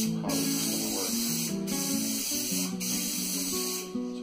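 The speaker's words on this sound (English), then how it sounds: "I need to spray both surfaces down" Contact cement adhesive hisses steadily from an aerosol can, sprayed onto carpet for a doghouse top in short bursts with brief gaps, close and continuous over a low background hum.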